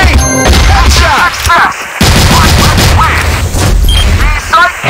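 Rapid gunfire bursts and a booming grenade blast crackle loudly through a first-person video game shooter match, with a player talking over the action.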